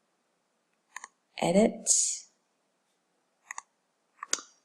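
Computer mouse clicks sound while working in Cricut Design Space: a few sharp, short clicks, some in quick pairs, spread across a few seconds, with a brief spoken word between them.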